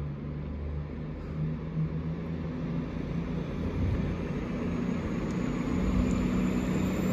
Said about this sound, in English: Now leaving off platform 12 at London Euston is your 1002 1 Delta 84 Avanti West Coast